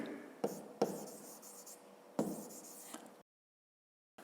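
Pen on paper writing by hand in a maths lesson, steady quiet scratching with a few sharper taps as marks are made, close and faint, then silence.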